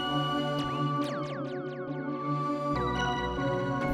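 Synthesizer pad preset in Arturia Pigments, a sustained dark tonal chord with repeated sweeping, descending plucked accents, moderately quiet.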